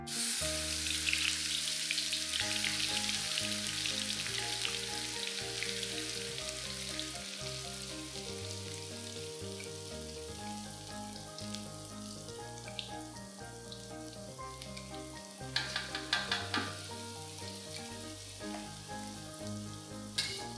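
Blended rempah paste fries in a large amount of hot oil over low to medium-low heat, a continuous crackling sizzle with occasional stirring, steady and close for about twenty seconds.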